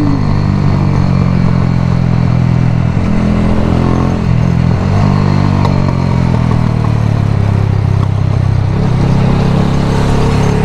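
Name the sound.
motorcycle riding in fifth gear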